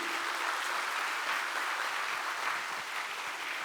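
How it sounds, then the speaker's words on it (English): Dense, continuous applause from a large crowd, steady and enthusiastic throughout, with no voices standing out. "You guys have been clapping non-stop"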